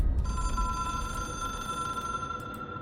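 A hotline telephone in the video game Control rings with a steady electronic bell tone, sustained and fairly loud throughout with faint low rumble beneath.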